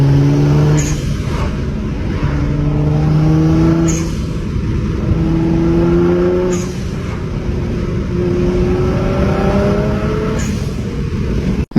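A 1000hp 2JZ-engined car runs close by with a loud steady idle, rising and falling through several revving sweeps in a repeating pattern with no voices.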